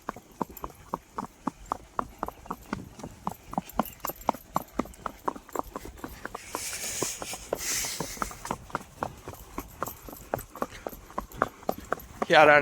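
A horse's hooves clip-clop in a fast, regular rhythm during a ride, each strike crisp and close. A brief rush of noise passes midway and a louder burst comes at the very end.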